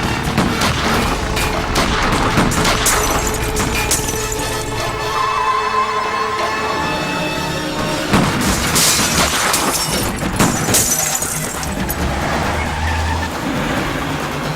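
Gunfire and crashes from a dubbed South Indian action movie erupt in loud, dense bursts, mixed with engine roar, skids and shattering, with no clear talk.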